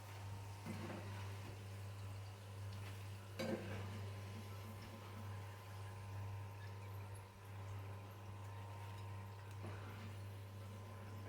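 Chicken pieces coated in besan and Kashmiri chilli frying in oil, a faint soft sizzle over a steady low hum with a few light clinks, quiet and without talk.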